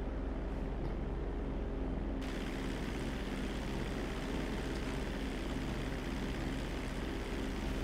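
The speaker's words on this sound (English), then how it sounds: "This is gonna be a hot takeoff." A propeller airplane in Grand Theft Auto roars steadily through a hot takeoff, its engine drone loud and constant from start to finish with no voices over it.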